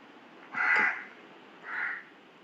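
Two loud, raspy crow caws close by, a longer call followed by a shorter one after a brief pause, with no talk over them.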